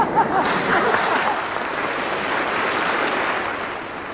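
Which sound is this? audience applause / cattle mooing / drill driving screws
audience applause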